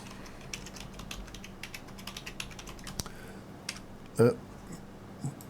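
Typing on a computer keyboard nearby, a run of light, quick keystrokes over a faint background hum, with a sharper clack near the end.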